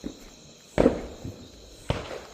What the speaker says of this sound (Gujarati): ફટાકડા ખરાબ છે તો ગાઈસ સળગાવી દીધો ફાઇનલી